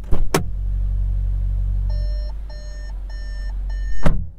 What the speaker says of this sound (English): Do you notice how awful the sound this makes when you open the door and the car is running?